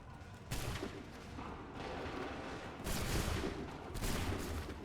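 Musket volleys from massed line infantry in Assassin's Creed III, three broad crashing bursts of gunfire at roughly one-second and two-second gaps, loud and close over a constant battlefield rumble.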